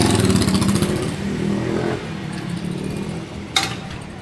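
An Inmax motorcycle engine runs steadily nearby, a buzzing mid-range drone that holds fairly even, with one sharp louder burst near the end.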